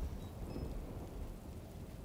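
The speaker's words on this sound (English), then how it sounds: "So I'm gonna uh, do the rain. Do some rain." A rain spell in the video game Divinity: Original Sin brings steady heavy rainfall with deep rumbling thunder, a continuous low roar that carries quietly throughout with no talking.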